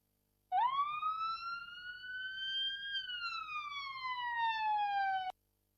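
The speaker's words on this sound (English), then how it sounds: "Be careful. That's an ambulance." A loud ambulance siren in heavy traffic rises in a long wail, holds, then slowly falls, one sweeping cycle close by with nothing else heard.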